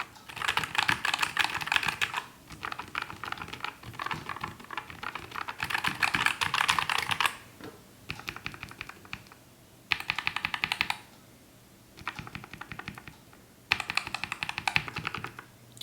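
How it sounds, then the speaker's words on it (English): Rapid clacking of lubricated mechanical keys on a Nuphy Air 75 V2 keyboard, typed in bursts separated by short pauses, close and fairly loud with a soft, muted quality. "you can see the difference in sound between the lubricated ones and the unlubricated ones"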